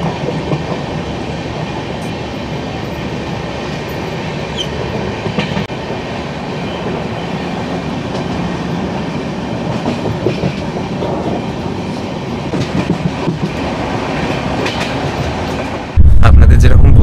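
Vande Bharat Express running on rails on the Kolkata to Varanasi route, a steady loud rumble of wheels and carriage noise heard from on board, with a sharp jump in low-end loudness at the very end.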